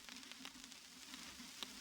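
Simulated tape noise from a vintage synth plugin gives a quiet, steady hiss dotted with faint crackles and occasional soft ticks, heard alone.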